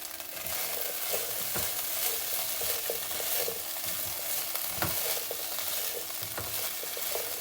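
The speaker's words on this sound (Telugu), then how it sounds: "లిడ్ పెట్టకుండా ఫ్రై చేసుకోవాలండి కొంతసేపు మనము అది క్రిస్పీనెస్ కోసము చూద్దాం" A raw cauliflower Manchuria mixture fries uncovered in a pan, giving a loud, steady sizzle with scraping stirs and occasional sharp clacks of a utensil against the pan throughout.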